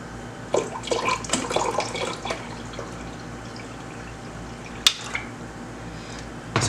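Water pours from a tap or jug into a container while four cups are measured out for homemade strawberry lemonade, a steady splashing flow with a few sharper clinks of dishes or pans near the start and end.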